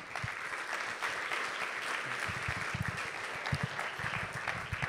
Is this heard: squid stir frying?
no